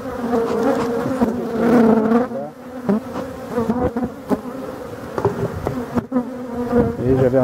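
Honeybees buzzing steadily at beehives, a dense, loud, continuous hum close by with fluctuating pitch and occasional handling noises.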